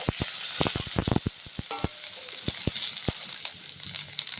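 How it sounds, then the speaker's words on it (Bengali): Taro and potato pieces sizzle in hot oil in a pan while a utensil stirs them, with steady frying hiss and repeated sharp scraping clicks, close and without talk. "কচু আলুগুলো দেওয়ার পরে এমনি করে একটুখানি এবারে নেড়ে নিই"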